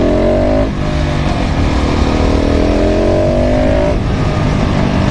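A KTM 690 SMC R supermoto motorcycle accelerates hard, its engine note rising through the revs, dipping briefly at a gear change, then climbing again, loud and close throughout.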